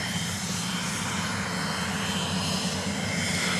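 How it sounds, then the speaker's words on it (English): A Cessna 525C Citation CJ4 business jet taxis past at Dallas Love Field at night, a steady broadband engine roar of moderate loudness with no break and no voices. "525C Citation CJ4 is scrolling past us here from our broadcast position."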